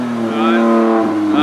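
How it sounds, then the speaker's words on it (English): A BMW M4 with an AFE exhaust revs loudly twice in a short burst, the engine note rising sharply and dropping, heard close by. "So Brian just put an AFE exhaust on his M4. Let's hear it."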